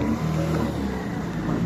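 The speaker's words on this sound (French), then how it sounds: "Et là le moteur, bon, on l'entend là" A steady boat engine drones continuously with a low rumbling hum, loud and close, with no voices over it, on a calm, misty crossing near Molène toward Ouessant.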